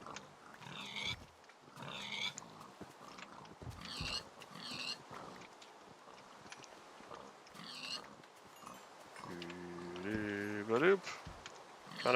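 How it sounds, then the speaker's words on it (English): Pigs in Minecraft give repeated short oinks and grunts at an uneven rhythm, with a voice talking over them and a louder drawn-out squeal near the end. "Pigs! Stop escaping."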